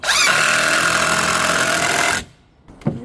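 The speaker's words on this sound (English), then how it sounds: "Pre-drill where the screws are going to bite into the verticals. And we'll put the screws in." A power drill drives screws into wooden verticals while firewood racks are assembled, a loud steady whir running about two seconds before stopping, followed by a short faint click.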